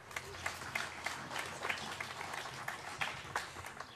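Audience applause for the Slovenian vocal group Rute, a steady patter of clapping hands filling the space at moderate volume with scattered louder claps and some voices mixed in.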